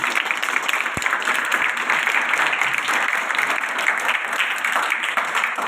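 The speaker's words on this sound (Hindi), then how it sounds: "इनके लिए जोरदार तालियां जाए।" Audience applause at an event held by an organisation, steady crowd clapping sustained throughout, dense and continuous at moderate loudness, with no talk over it.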